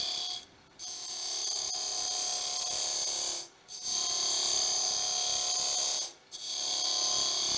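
Steady broadband cutting of wood, likely a lathe or power tool shaving timber, running in three long continuous passes separated by brief near-silent pauses, close and fairly loud.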